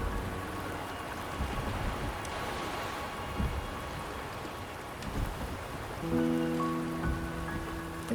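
Rain and thunder in the video game Wuthering Waves: a continuous rain hiss with low, muffled rumbles rolling underneath, and soft sustained musical tones joining near the end.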